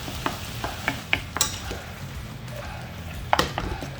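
Garlic cooks in a pan for a venison hunter's pie, a soft low sizzle under scattered scraping and stirring clicks of a utensil against the pan, close and fairly quiet without talk.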